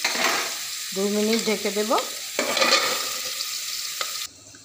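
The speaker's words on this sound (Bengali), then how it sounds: "লাল লাল করে আলুগুলোকে ভেজে নেব।" Potatoes fry in a pan with salt and turmeric, giving a steady close sizzle with stirring scrapes; someone speaks briefly over it early on, and the frying drops away abruptly near the end.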